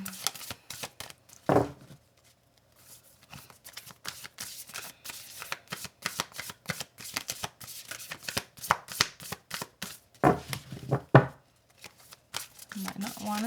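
Moonology Oracle cards shuffled by hand in quick bursts of crisp riffling and tapping, close up, broken by short pauses, with a voice speaking during the shuffling.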